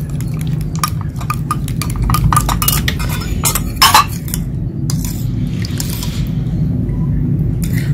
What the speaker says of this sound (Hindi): अब इसको पहले मैं अच्छे तरीके से मिक्स करूंगी